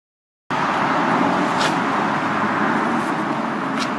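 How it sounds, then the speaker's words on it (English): The air conditioning compressor of a Mercedes W211 E-Class runs after a short silence, a steady close engine-bay hum with a constant whirring tone and a faint occasional hiss, continuous and even with no speech. "Right, now we have the compressor running"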